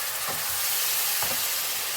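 Tomato puree poured into masala sizzling in a pan while making chole: a steady, close frying hiss with a couple of brief bursts of stirring and bubbling.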